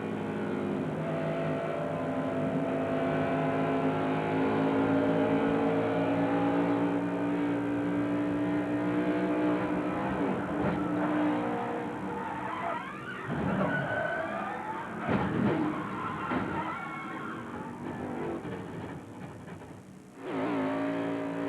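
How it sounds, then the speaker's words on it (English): Ward Burton's race car engine heard from inside the cockpit at the 2000 Pennzoil 400, a steady loud drone with harmonic whine that shifts and surges toward the end. "The onboard camera inside Ward Burton's car. Just listen."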